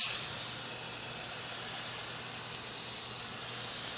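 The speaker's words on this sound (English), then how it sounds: "I'll run a little mist through." A soft, steady hiss of fine spray from a water mister runs continuously for a few seconds into a tegu enclosure, close by and fairly quiet.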